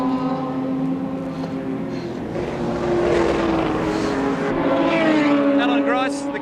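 Touring race cars at Oran Park, led by Alan Moffat's Mazda RX-7, roar past, their engine notes rising and sliding in pitch under continuous commentary.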